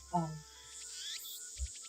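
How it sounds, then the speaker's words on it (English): Cicadas chirp in the Steins;Gate video game, a high buzzing chorus near a shrine that repeats steadily throughout, with a soft low thump near the end. "What's wrong with their cicadas?"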